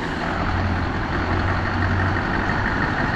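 A truck with a low loader rumbles at low revs in a steady, continuous drone while manoeuvring to turn around, heard alone without speech.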